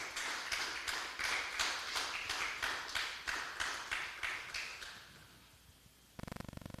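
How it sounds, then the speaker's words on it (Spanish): A church congregation claps in a steady rhythmic beat, about three claps a second, loud and even, then fading away, with a brief burst of different noise right at the end. "Denle un fuerte aplauso al Señor, aleluya."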